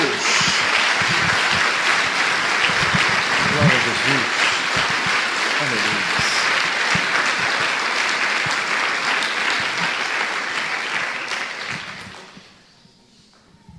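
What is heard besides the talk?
church congregation applauding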